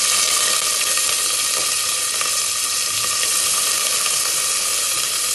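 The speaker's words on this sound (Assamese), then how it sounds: "আম্মা ইফালে পিয়াজ ভাজি আছে" Chopped onions fry in hot oil in a pan on a gas stove for pulao, giving a loud, continuous close-up sizzle with no talking.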